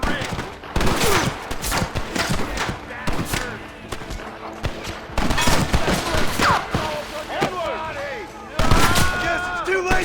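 Dense gunfire rattles through a fort assault in Red Dead Redemption, with rapid overlapping shots and bursts filling the whole stretch, loud and close, while voices shout intermittently beneath the barrage.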